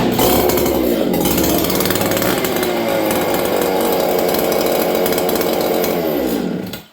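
A Dolmar chainsaw fitted with a Hogans 266 pipe and muffler mods runs at steady high revs for about seven seconds, loud, close and continuous, then cuts off abruptly at the end.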